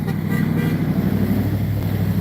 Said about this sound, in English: The honking horns doesn't end. It's constant, doesn't it?